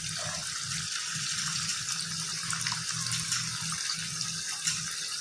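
Chakli, a spiral of dough, frying in hot oil in a home kitchen, with a steady broadband hiss and bubbling that runs throughout and stays close, alongside low hum.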